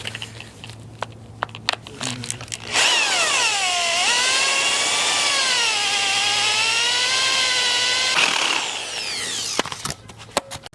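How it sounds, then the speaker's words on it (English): Electric drill running steadily for about five seconds as a bit bores out holes with cutting oil during work on a 1979 Ford F100's LS engine mount, motor pitch sagging and recovering under load, with short bursts before and after. "Now let me get the drill bit and drill these out."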